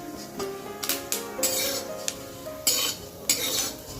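Fenugreek seeds roasting in a hot kadai, stirred with a metal spoon, giving sharp scraping clinks and scattered crackling pops in an uneven rhythm, close and fairly loud with no talk.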